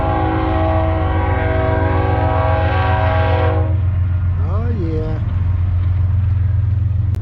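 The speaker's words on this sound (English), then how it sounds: "There goes the choo-choo." A train passes close by on a cycling trip near Ghost Town Road, its engine a loud, steady rumble and a long horn blast sounding over it before the horn cuts off and the rumble carries on.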